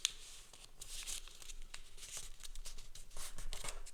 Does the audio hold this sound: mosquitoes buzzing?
no